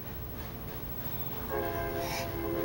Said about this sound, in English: Do you hear the train? You hear the choo-choo train?